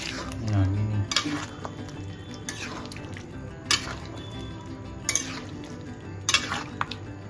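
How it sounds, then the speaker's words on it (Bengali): Fried potatoes stirred into mutton curry in a pot, with faint scraping and occasional metallic clinks of a spoon against the pot over a low background. "ভাজা আলুটা দিয়ে দিলাম, নাড়িয়ে নিচ্ছি।"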